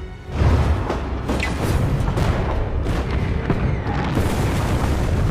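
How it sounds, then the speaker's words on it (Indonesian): In a war film about Soviet soldiers facing German forces, artillery fires as a dense, continuous rumble of booms and blasts, loud and close, with no voices. "Setelah koordinat sudah tepat, artileri pun langsung ditembakkan."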